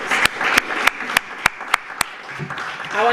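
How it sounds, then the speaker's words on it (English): An audience at a panel discussion on violence against women gives a round of applause, heard as a series of separate loud claps over a background murmur, with a voice starting to speak at the end. "let us give her a big round of applause"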